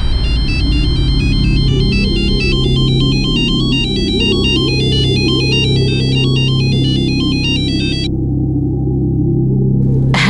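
A telephone rings with a repeating electronic ringtone, a steady pulsing pattern that is loud and close for about eight seconds before cutting off, heard alone under a low background hum in a dramatized crime scene.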